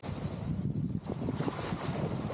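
Ocean waves washing onto a beach at Grand Turk, a continuous rushing surf mixed with wind buffeting the microphone, steady and fairly loud with no talking.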